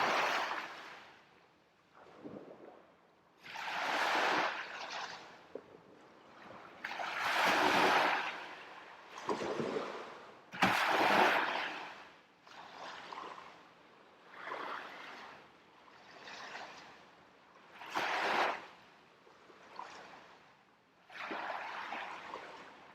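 Sea waves breaking on the shore at Felixstowe, repeated surging washes of surf that swell and recede in a slow rhythm, fairly close and moderately loud with quiet gaps between, no talk.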